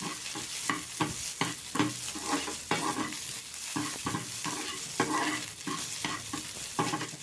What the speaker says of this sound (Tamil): ஆனியன் நல்லா ஃப்ரை ஆகட்டும்.